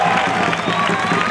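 A crowd cheers and applauds at the lighting of the fairground for the Salamanca fair, a dense, steady roar of clapping and shouting voices that holds evenly for over a second.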